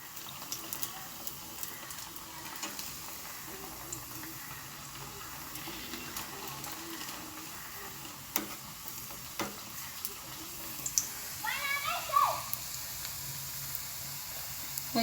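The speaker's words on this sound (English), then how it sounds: "we wait for the oil to be very hot, and then we dip our first sambusa" Meat sambusas fry in very hot oil in a frying pan, producing a quiet, continuous sizzle with a few louder crackles and bubbling bursts near the end.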